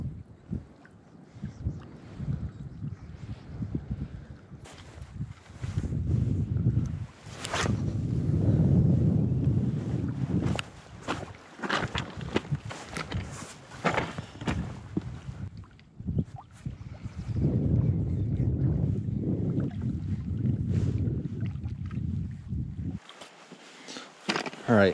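Gusty wind buffets the microphone beside a desert lake during early spring trout fishing. The rumbling roar rises and falls in strong waves, and someone talks intermittently underneath.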